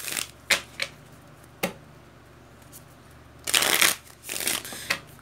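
Tarot cards being handled and shuffled up close, with scattered crisp riffles and slaps followed by a longer, denser burst of shuffling, no talking over it.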